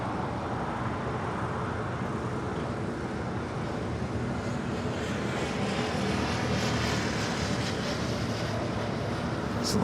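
A United Airlines Boeing 737 MAX 9 jet rolls down runway 25 right at Los Angeles International Airport, producing a steady, broad engine roar at some distance that holds without a break and swells slightly toward the end.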